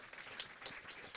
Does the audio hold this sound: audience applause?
yes